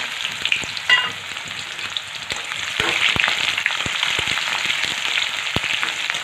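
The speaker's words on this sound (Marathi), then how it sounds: "कांदा आपल्याला छान लाल रंगावरती येईपर्यंत परतून घ्यायचा आहे" Sliced onion sautés in hot oil with cloves and bay leaf for a vegetable rice dish, giving a steady, close sizzle with sharp clicks of a spoon scraping the pan now and then.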